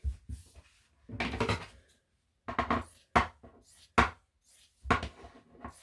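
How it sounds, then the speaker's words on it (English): Two layers of fabric being cut to size for framing embroidery in a hoop, heard as a series of about five crisp, close cutting bursts with short pauses between them and no talk. "And of course I'm chopping 2 pieces of fabric together."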